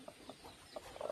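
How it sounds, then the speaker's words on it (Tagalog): Mother hen with newly hatched chicks on a rural farm, soft low clucks coming in a short irregular series, quiet and close, with faint higher peeps mixed in. "Pumisa na yung inahin, may pisa na siya."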